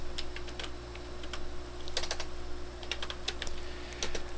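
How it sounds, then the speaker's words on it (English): Code is typed on a computer keyboard, heard as a close, uneven patter of light key clicks in short bursts over a steady low electrical hum, with no voices. "if I begin to type in a code"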